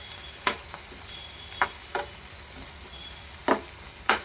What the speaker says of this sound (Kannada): ಆನಿಯನ್ ಸ್ವಲ್ಪ ಕಂದು ಬಣ್ಣಕ್ಕೆ ತಿರುಗಿದ ನಂತರ ಟೊಮೆಟೊ ಹಾಕಿ ಸ್ವಲ್ಪ ಫ್ರೈ ಮಾಡಿ